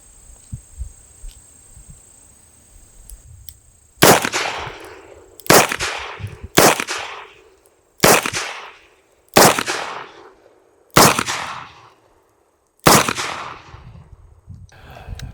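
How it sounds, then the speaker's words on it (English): A Smith & Wesson 686 Plus Mountain Gun revolver fires .38 Special rounds: seven loud, sharp shots in a fairly steady rhythm over about nine seconds, each with a short ringing decay, after a quiet start. "3 Magnums and 4 Specials. Start with the Specials."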